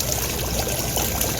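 Water streams and splashes steadily in an outdoor fountain on an icy cold day, a constant close rushing wash with no voices.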